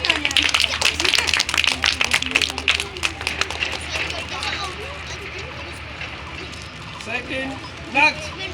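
Students at a class 5 school farewell party clap loudly for a classmate, a brisk burst of applause that thins out after a few seconds, followed by a voice talking.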